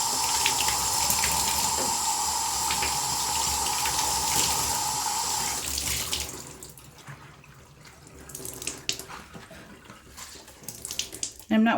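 Tie-dyed fabric is rinsed under a running tap, a steady loud splash and gush of water that stops about halfway, leaving quieter drips and handling sounds.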